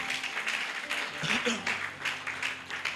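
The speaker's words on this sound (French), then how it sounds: "Acclamons pour la gloire de notre Dieu." A church congregation applauding together, steady clapping at moderate volume with a broad wash of many hands and faint background voices.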